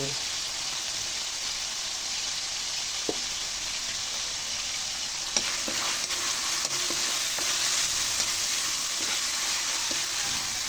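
Onion and garlic sauté in a pan with plenty of pepper, giving a dense, even sizzle that holds for the whole stretch. A few faint knocks and clicks break through, and no voice is heard.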